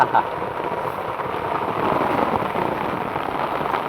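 Heavy rain pours steadily onto surfaces in a continuous loud hiss and patter, a dense, unbroken wash of sound.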